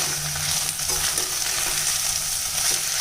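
Chopped capsicum sizzles steadily in a hot pan while being stirred for a pulao, a continuous bright frying hiss with soft scraping of the stirring underneath.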